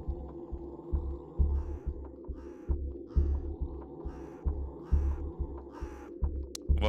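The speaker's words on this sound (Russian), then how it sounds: "ворона опять" A crow caws repeatedly in a Roblox horror game set on a staircase, harsh calls spaced every second or so over a steady low hum with a thumping heartbeat-like pulse beneath.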